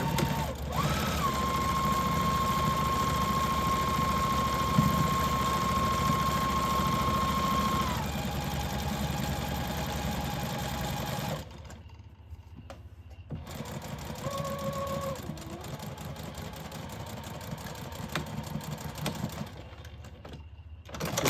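A sewing machine runs in long steady bursts, stitching a fabric jar cover to form an elastic channel. It whirs continuously and fairly close, then pauses briefly and resumes in shorter runs.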